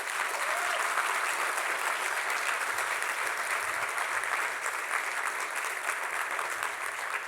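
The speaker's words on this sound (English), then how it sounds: "So please give a round of applause for Chris." Sustained audience applause at a cloud computing summit's closing address, a dense, even clapping crowd filling the room at steady loudness.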